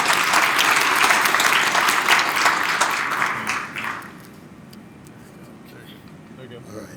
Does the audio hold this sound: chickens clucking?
no